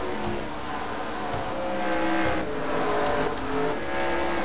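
Stock car engine from the 1990s-era Cup Series field, including the Winn-Dixie car, roaring steadily around the North Wilkesboro track with constant loud drone and slight surges, no talk.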